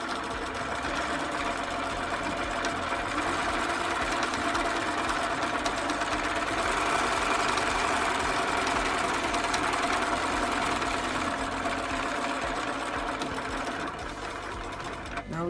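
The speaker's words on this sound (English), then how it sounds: "you can pick which line you want to go on, and you just keep sewing" A sewing machine stitches steadily through a blanket, its fast, even mechanical whirr running unbroken and fairly close for the whole stretch, with no talk over it.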